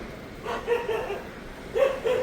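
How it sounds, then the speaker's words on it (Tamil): A frightened dog barks and yelps at firecrackers somewhere below, giving a few moderately distant, strained barks in two short bursts over a steady outdoor background hum. "பாவம் கீழே இந்த நாய் பயத்தில் கத்துது"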